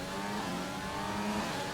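Formula 1 cars in a video game race at Monaco, their engines roaring loudly in a steady, continuous high-revving blare with no talk over it.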